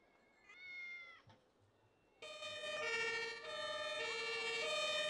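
Police patrol car siren in the emergency-services game Emergency 4, a loud, steady electronic wail with stacked harmonic tones sounding continuously for several seconds after a brief quieter tone.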